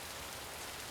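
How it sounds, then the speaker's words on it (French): Heavy rain pouring down in a dense, steady hiss with no pauses. "il pleut des cordes"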